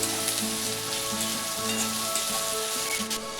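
Chopped onions with a pinch of salt sautéing in a pan until golden, a steady close sizzle with faint stirring scrapes throughout.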